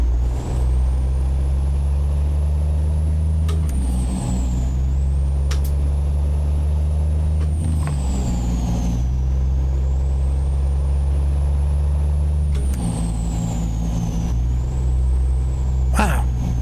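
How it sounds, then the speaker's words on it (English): A truck with a slipping clutch in American Truck Simulator, its deep engine drone steady and loud throughout, rising and falling in pitch with air-brake hisses and a few clunks. "Sounds like the clutch is slipping."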